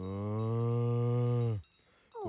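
A cow moos in a forest during a two-day camping trip, one long, loud, sustained low call nearby that stops abruptly, followed by a brief quiet pause.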